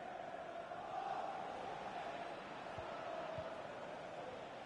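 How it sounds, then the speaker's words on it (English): Liverpool supporters in a football video game produce a distant, steady crowd roar that swells slightly, with a faint chanting tone running through it, continuous and fairly quiet throughout. "just listen to the Liverpool fans"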